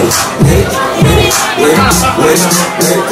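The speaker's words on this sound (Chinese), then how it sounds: "掌声加起掌声" A club crowd cheers and shouts in rhythmic bursts, loud and close, a dense wall of voices and whoops with music underneath.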